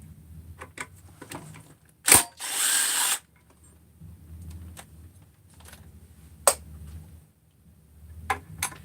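A power tool drives engine mount screws with a short loud burst of whirring, then quieter clicks and small tool handling noises, close by and with no talking.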